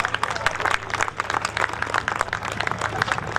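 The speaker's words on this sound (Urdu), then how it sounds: "بہت ساری تالیاں بجائیے گا سی ای او کیپٹل ویلی جناب سہیل چیمہ صاحب کے لیے" Applause from an audience at a Capital Valley housing society event in Islamabad, welcoming CEO Sohail Cheema: dense, steady clapping from many hands throughout, fairly close and sustained without a break.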